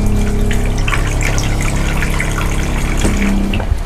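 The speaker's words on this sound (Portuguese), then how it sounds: "Aqui uma torneira em inox, 3/4 de volta, e a pia em acrílico." Water runs steadily from a stainless steel quarter-turn faucet into an acrylic sink in the cabin of a 2012 FS 230 Scappare boat, a continuous close gushing wash with no pauses.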